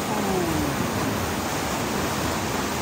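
A natural waterfall in Lauterbrunnen, Switzerland, its water roaring as a steady, loud, broadband rush that fills the whole span without a break.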